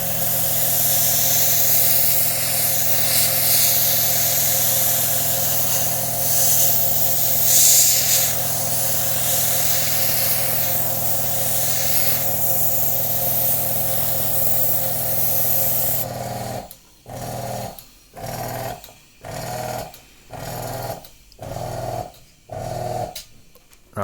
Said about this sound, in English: just turn the compressor off